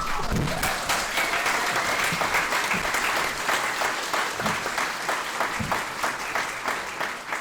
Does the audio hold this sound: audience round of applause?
yes